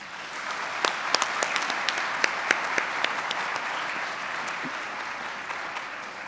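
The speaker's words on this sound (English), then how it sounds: "Let's give them a round of applause" Audience at a Blue Ridge Community College commencement ceremony applauding, a steady, moderately distant wash of clapping with a few sharper individual claps standing out.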